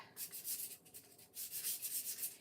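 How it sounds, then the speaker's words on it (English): Light sanding of a painted wooden craft kit piece, with soft, quick back-and-forth scratchy strokes repeating close by, quiet and steady. "I'm going to just lightly sand."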